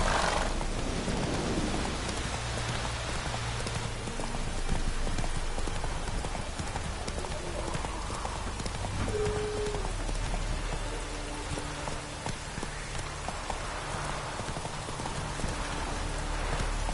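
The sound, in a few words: horse Roach clip-clopping, from video game Witcher 3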